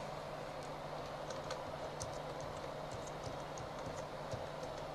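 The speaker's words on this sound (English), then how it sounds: "And of course you need to type your password." Soft, scattered key clicks on a computer keyboard as a password is typed, irregular light taps over a steady low background hum, faint and alone with no talking.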